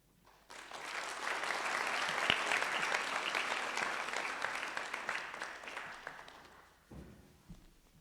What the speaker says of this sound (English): Please give a round of applause for our much respected director.